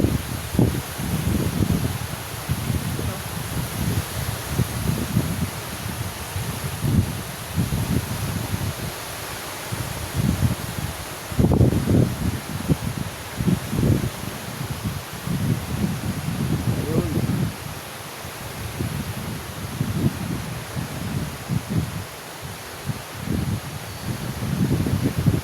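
Wind gusting and rustling along the beachfront of Aroma Beach Resort, a steady broadband whoosh with irregular low buffeting bursts against the microphone throughout.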